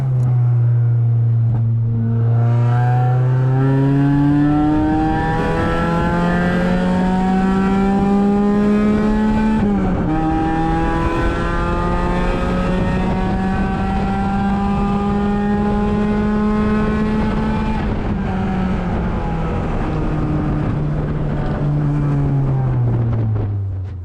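A Mazda Miata race car lapping a circuit from the passenger seat, its engine loud and continuous, climbing steadily through the revs, dropping sharply at gear changes, then rising again with a brief lift and drop near the end.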